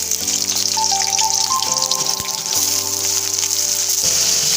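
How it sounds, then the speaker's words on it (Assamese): Potato and papaya pieces frying in oil in a kadai, a continuous loud sizzle and crackle up close, with a steady electric hum beneath and no talking. "মই আলু আৰু অমিতাখিনি অলপ ৰঙচুৱাকৈ ভাজি ল'ম"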